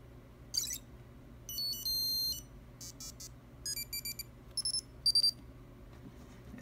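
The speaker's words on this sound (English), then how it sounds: "it had a monophonic piezoelectric buzzer, which could only make clicks like these and beeps" The piezoelectric buzzer of a first-generation iPod Touch gives off thin, high beeps in short bursts with irregular gaps, and a few of them hold a steady tone. It is fairly faint and there is no talk.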